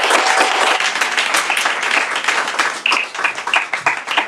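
A church congregation breaks into loud applause and clapping that fills the space, keeps up steadily, then thins into scattered claps toward the end.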